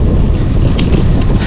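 Loud, steady wind buffets a microphone during a sunny, windy bike ride with a tailwind, a continuous low roar with no voices.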